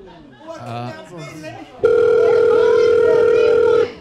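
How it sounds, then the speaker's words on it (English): Voices speak briefly, then a loud steady electronic telephone tone sounds continuously for about two seconds before cutting off. "The package is ringing"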